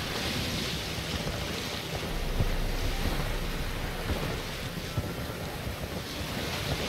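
A small boat on open sea in The Witcher 3: Wild Hunt, with steady rushing waves and wind buffeting, a continuous washing roar with occasional low thumps.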